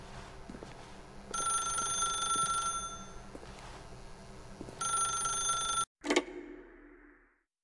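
A telephone rings inside the video game The Stanley Parable, two bright electronic ring bursts separated by a pause over a faint background hum, followed by a short thump and then silence.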